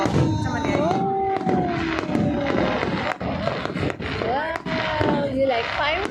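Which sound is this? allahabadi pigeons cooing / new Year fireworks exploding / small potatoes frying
new Year fireworks exploding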